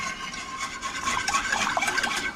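Sugar and salt being stirred in a pot over low heat for a Thai mango sticky rice sauce, a soft continuous scraping and swirling, quiet and close with no talk.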